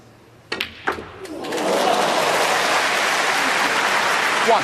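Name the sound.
crowd applauding at a snooker match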